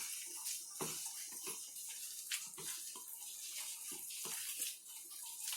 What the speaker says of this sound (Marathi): आता याच्यामध्ये पाणी टाकून चांगलं काढून घ्यायचं